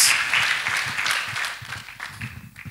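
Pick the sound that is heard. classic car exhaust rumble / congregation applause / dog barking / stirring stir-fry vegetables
congregation applause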